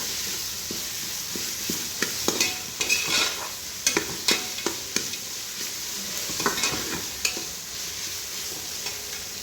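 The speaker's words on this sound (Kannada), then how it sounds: "ಈರುಳ್ಳಿ ಚೆನ್ನಾಗಿ ಫ್ರೈ ಆಗಿ" Chopped onions fry in hot oil for a nati-style biryani, giving a steady close sizzle broken by frequent sharp scrapes and clicks of a spoon stirring against the pan, with no voices.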